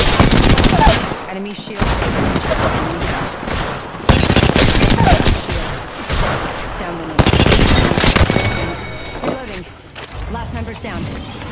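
Rapid automatic gunfire from the Apex Legends battle royale game, loud bursts of shots in a dense sustained stream with short gaps, while a game voice speaks over the action.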